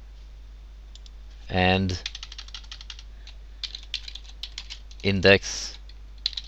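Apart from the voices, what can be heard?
typing on a computer keyboard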